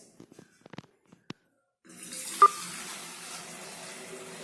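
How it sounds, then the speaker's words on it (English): Boiled water poured from a kettle into a jug, a steady hissing splash starting after a few faint taps and clinks, close and fairly quiet, continuing to the end. "I am pouring the boiled water into a jug for my convenience"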